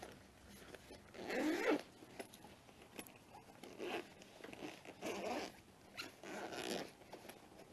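A zipper on a durable nylon drone case compartment is pulled open in several quick rasping strokes, close and crisp, with short pauses between pulls and no talking.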